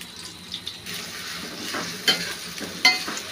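Onion, garlic paste and ginger paste fry in hot oil for a lentil, papaya and potato dish, giving a steady close sizzle with a few sharp clinks of a spoon against the pan.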